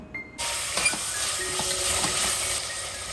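Tomatoes sauté in a pan with a steady bright sizzle that begins abruptly and holds, broken by a few soft scraping stirs from a utensil, close and moderately loud with no voices.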